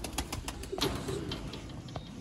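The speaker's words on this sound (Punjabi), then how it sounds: "ਵੱਡਿਆਂ ਵਿਡਾਂ ਦੇ ਸਿਆਲਕੋਟੀ ਕਬੂਤਰ ਮੀਆਂ ਸਾਹਿਬ ਤੁਹਾਨੂੰ ਸ਼ੌਕ ਕਰਵਾ ਰਹੇ ਸਨ" Sialkoti pigeons coo on a rooftop in Sialkot, a steady run of soft, low calls with scattered higher bird chirps against a constant background hiss.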